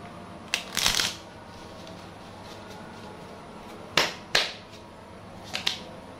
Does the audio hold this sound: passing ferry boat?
no